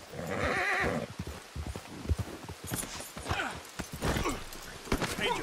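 Horse hooves clip-clop steadily under a loud whinny in the Western open-world video game Red Dead Redemption 2, with a voice talking over the hoofbeats.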